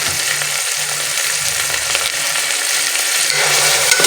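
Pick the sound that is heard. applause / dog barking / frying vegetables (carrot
frying vegetables (carrot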